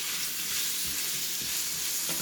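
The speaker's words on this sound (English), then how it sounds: "So probably I'll stir it for at least 5 more minutes or 3 minutes." Grape tomatoes sizzle steadily in a hot pan with salt and vegetables, a close, continuous frying hiss with faint scraping as they are stirred.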